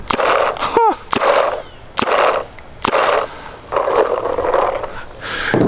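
A Planet Eclipse Geo R5 paintball marker fitted with a Twister Vortex bolt firing several single shots, each a sharp pop with a brief hissing burst, spaced about a second apart, close and loud.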